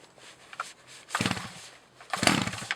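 A small STIHL chainsaw with the choke on is pull-started: two quick ripping yanks of the starter cord sound up close, without the engine catching.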